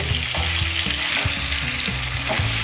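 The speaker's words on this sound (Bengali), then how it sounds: "একটু নাড়িয়ে আমি মশলাটাকে এর মধ্যে মিশিয়ে দেব।" Pointed gourd fries in spices, sizzling steadily in a hot pan while a utensil scrapes and stirs in irregular strokes, close and loud, with no talking.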